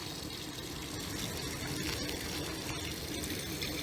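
Water rushing in on a narrowboat: a steady, loud, broadband gushing that holds evenly from start to finish, with no voices over it.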